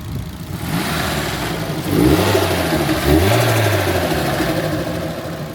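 A Nissan Skyline R34 engine runs steadily during a misfire test, with two rising revs from idle that settle back into a loud, continuous drone.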